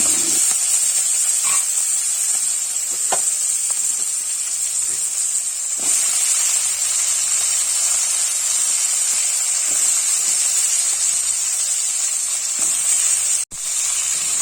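Cut potatoes hit a hot pan of oil with panch phoron spices and chopped onion, giving a steady loud hiss and sizzle throughout, with a few soft stirring clacks and scrapes.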